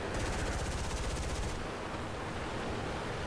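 Rapid aircraft machine-gun bursts in War Thunder, loud and dense, a fast stuttering stream for the first second and a half before easing into steady roaring engine noise, with no voices.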